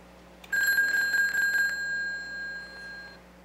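A payphone's bell rings when called from another line, wired to a VoIP box: one clear, bright electromechanical ring lasting about a second, then a ringing tail that fades slowly over the next two seconds.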